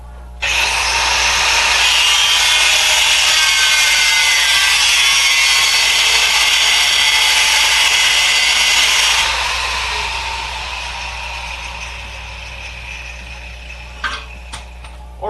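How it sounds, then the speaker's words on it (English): Big cutoff wheel grinding metal on a Honda Civic during hitch receiver work, a loud continuous harsh whine lasting many seconds before easing off, ending with a few clanks. "Back to grinding."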